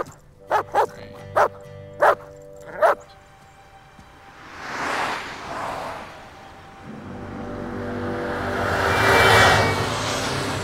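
A dog barks five times in a quick, loud series near at hand, followed by broader noisy rumbling that could be a passing car or movement in the background.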